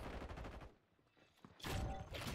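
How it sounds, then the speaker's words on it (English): Gunfire from a firefight in the Call of Duty Warzone map Rebirth Island, a burst of shots at the start, a brief lull, then a louder, denser volley of rapid fire near the end. "Gunfire, run."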